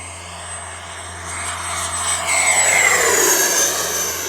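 An FMS Scorpion 90 electric ducted-fan RC jet on 8S power at full throttle, its loud, high fan whine swelling and shifting in pitch as it passes close.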